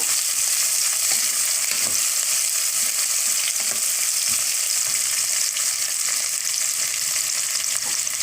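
Chopped large onions frying and being stirred in a pan while making bread brinji rice, a steady bright sizzle throughout with occasional soft scraping and stirring knocks, close and continuous with no talking.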